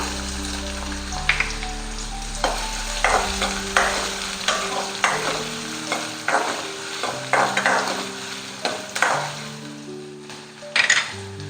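Chopped onion sizzling and frying in a pan for veg manchow soup, stirred with repeated scraping strokes, close and steady, with no talk.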